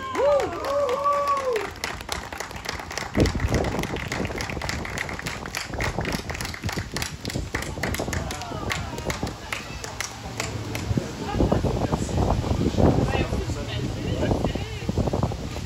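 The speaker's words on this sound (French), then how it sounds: "On peut l'applaudir encore." An outdoor audience claps for a volunteer receiving an award, a loose patter of applause rising and falling amid wind noise, with people talking throughout.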